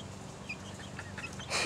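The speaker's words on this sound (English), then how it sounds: "Here's my pet chicken." A pet chicken gives a few soft, close clucks over a low background hum, ending in a brief louder squawk.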